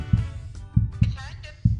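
Heartbeat sound effect: deep, thudding low pulses repeating in a loose double-beat rhythm, loud and close, with faint voices and music in the background.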